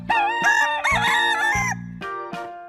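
A rooster crows a full cock-a-doodle-doo, loud and close, with a second shorter call following near the end, over a steady low background hum.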